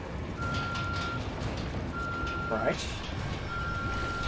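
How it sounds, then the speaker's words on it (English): In the video game The Evil Within, a device gives off a steady electronic beep in repeated stretches over a low background rumble, while someone speaks briefly. "Okay, so it starts beeping."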